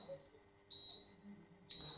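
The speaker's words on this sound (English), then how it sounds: "Now I've got freaking beeping" A faint electronic beep sounds twice in a high, steady tone about a second apart, over a quiet hum with low background noise.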